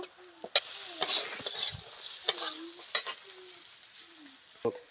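Chili powder and turmeric spice mix frying in a pan with a steady sizzle while a spoon stirs and scrapes, giving sharp clicks and knocks at irregular intervals, close up and alone with no talk, in a Sundarban village kitchen while cooking a crab sour curry.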